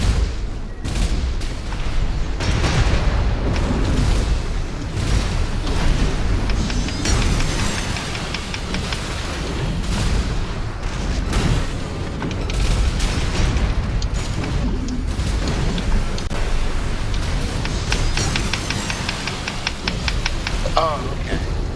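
Mechs trading fire in the Armored Core VI arena, a dense, continuous barrage of booming shots, bursts and explosions layered over game music and effects, loud and unbroken, with a commentator's voice running underneath.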